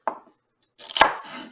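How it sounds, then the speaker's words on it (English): Knife chopping vegetables on a cutting board while making beef stew: one short cut near the start, then a pause, then a louder burst of quick chopping with a sharp knock in the middle, close and clear with no talk. "So I'm going to cut the end off of them and just chop them in there."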